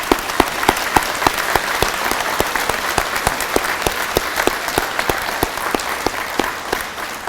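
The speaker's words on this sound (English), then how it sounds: "another round of applause for Chief Paducas." A crowd at a security graduation ceremony gives steady applause for the chief, a sustained run of sharp claps from many hands, close and clear.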